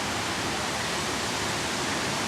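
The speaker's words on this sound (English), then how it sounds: "Yeah, it's getting very windy." Wind blowing outdoors during a storm, a steady, dense hiss-like roar that fills the short stretch evenly without gusts or voices.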